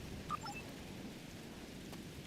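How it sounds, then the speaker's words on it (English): Steady rain hiss with a low rumble of thunder on the planet Ryza in the Star Trek Online video game, a constant wash at even loudness with a few faint tonal game chimes early on. "Wow, rain on Ryza."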